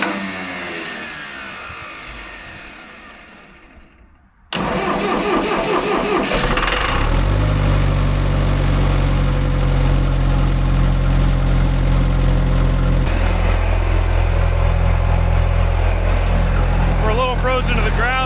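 A John Deere 410 backhoe engine, frozen to the ground on a cold morning, fires up abruptly after a fading sound and settles into a loud, steady, throbbing idle that runs on without any talking.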